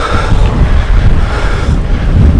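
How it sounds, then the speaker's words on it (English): Strong wind roars steadily across the microphone while cycling up Wrynose Pass in the Lake District, a loud, continuous rush that buffets the mic throughout. "it's really windy today"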